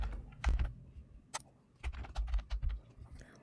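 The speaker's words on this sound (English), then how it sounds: "In these spaces, we can type our values." Someone types values into a Scratch 3 list on a computer keyboard, a few quick clusters of close, crisp key clicks separated by short pauses in a quiet room.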